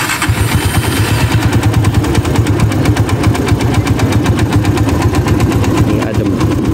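A Honda motorcycle engine, freshly changed to Deltalube 731 Adventure 20W-50 oil, idles steadily with a fast, even pulsing rumble, close and fairly loud, with no talking.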